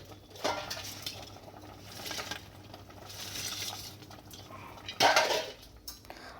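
Fried lentil fritters going into a pot of Bengali curry, with metal utensils clinking and scraping against the vessel in scattered close bursts, one louder clatter near the end.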